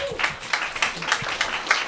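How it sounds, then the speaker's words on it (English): Applause for the East Flatbush Library at a ribbon-cutting press conference, a short burst of scattered clapping from a small group that swells in uneven pulses, with a few faint voices underneath. "let's give them a round of applause"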